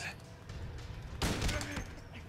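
Shotgun fire in the video game Silent Hill 2 Enhanced Edition, one loud burst midway over quiet game ambience, with no talking.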